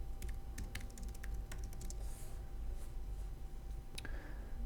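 Quick bursts of typing on a computer keyboard, with close clicking keystrokes in short clusters and brief pauses between them, no voices.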